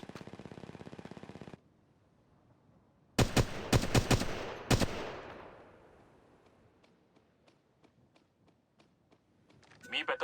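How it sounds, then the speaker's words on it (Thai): In the mobile battle royale Apex Legends Mobile, a quick cluster of sharp gunshots cracks out mid-clip, then trails off into faint scattered distant shots, with a steady buzzing tone before and more shots returning at the end. "ฉันกำลังถูกยิงใส่"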